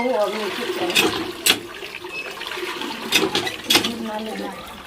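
Water from a tap or pot splashes and runs steadily while filling for washing in a home setting, with a few louder splashes and clinks and faint voices around it.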